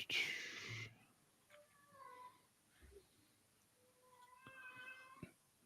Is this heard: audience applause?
no